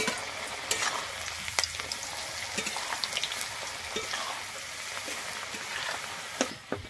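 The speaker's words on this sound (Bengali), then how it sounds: "এভাবেই ভেজে নেব।" Slices of raw potato frying in hot oil make a constant, dense sizzle with scattered crackles and pops that stay steady throughout.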